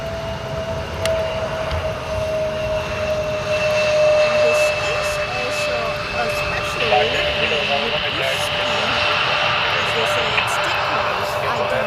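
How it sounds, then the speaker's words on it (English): A Polish LOT Embraer E175 jet arriving from Warsaw roars steadily as it comes in to land at Amsterdam Schiphol, loud and sustained, with a voice talking over it. "This is an Embraer E175 landing right over here."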